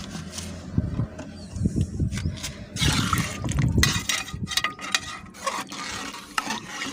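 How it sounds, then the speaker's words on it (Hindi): Chicken and black chana gravy stirred in a pot, with repeated scraping and sloshing strokes at close range and a soft sizzle underneath, no talking. "इसको अच्छी तरह मिक्स करते हैं और पकने के लिए रख देते हैं।"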